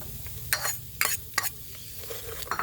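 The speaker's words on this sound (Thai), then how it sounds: "จะนำสมุนไพรส่วนผสม เครื่องเคียงมาคั่วก่อนนะจ๊ะ" Herbs and side ingredients are dry-roasted without oil in a pan, with a few sharp scraping stir strokes over a soft, steady crackle.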